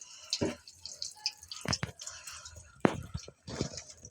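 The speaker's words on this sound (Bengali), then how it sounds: "একটু তেল দেবো রান্নার জন্য।" Cooking oil is poured into a pan, a few soft close drips and splashes with brief gaps between them.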